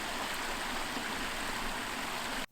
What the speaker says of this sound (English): the waterfall puts the finishing touches on it.